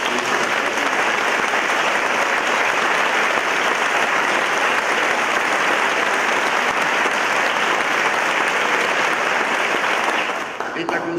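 A large conference crowd applauds Bolivian president Evo Morales in a dense, loud and unbroken wash of clapping that lasts about ten seconds before tapering off.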